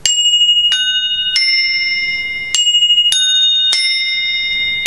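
Old hole saw blades from a hardware store are struck as found instruments, six bright metallic rings, each sharp strike followed by a long shimmering sustain, loud and close with no talking.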